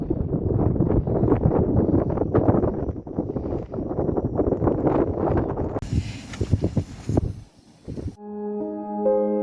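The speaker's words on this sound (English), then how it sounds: "It's a bit windy though" Strong wind on a mountain ridge buffets the microphone in loud, rough, gusting rumbles for most of the stretch. It then drops away into a brief quieter tonal passage near the end.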